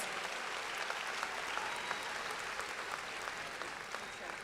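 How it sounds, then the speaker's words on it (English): Sustained applause from a commencement convocation audience for a presidential medal recipient, a dense steady wash of many hands clapping with no clear speech on top. "Let's give her another round of applause"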